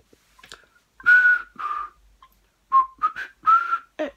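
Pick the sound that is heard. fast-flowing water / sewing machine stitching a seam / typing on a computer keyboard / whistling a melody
whistling a melody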